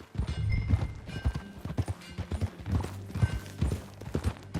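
Horse hooves clip-clop at a riding pace in Red Dead Redemption 2, a fairly quiet, uneven rhythm of soft thuds with a low background hum and no speech.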